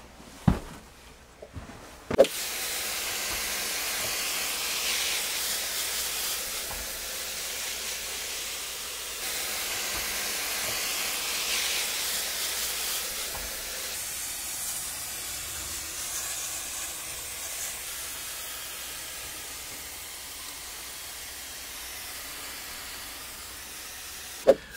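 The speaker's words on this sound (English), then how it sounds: "So let's go ahead and get the pump and spray this thing down and watch it come to life." A hand pump sprayer mists down a bioactive turtle vivarium, a steady soft hiss running nearly unbroken for over twenty seconds after a couple of sharp knocks as the pumping starts, with a final click at the end.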